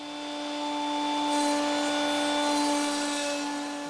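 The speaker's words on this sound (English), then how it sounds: "We're ready to cut all 8 mortises in the bottom legs." A router table cutting mortises into wooden legs for a tool stand: a steady, fairly loud motor whine that holds for the whole stretch and swells slightly in the middle, with no voices.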